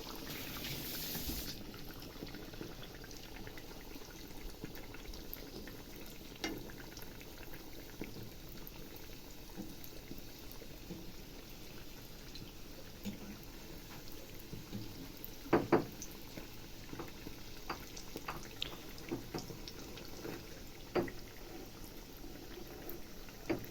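Steady bubbling sizzle of dough pieces frying in hot oil runs throughout, with a few sharp pops and crackles standing out near the middle.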